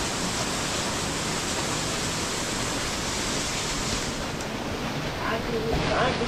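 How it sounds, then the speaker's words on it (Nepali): Water gushes steadily from a hole at the Dupcheshwor Mahadev temple in Nuwakot, a continuous broadband rush heard close and fairly soft throughout. "पुरा दुलाबाट आइरहेको छ पानी त"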